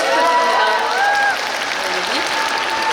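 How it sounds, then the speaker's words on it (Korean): Audience applause at an open talk for the film Exit at the Busan International Film Festival, a steady wash of clapping from a crowd that holds for the whole stretch and eases slightly partway through. "큰 박수 부탁드립니다"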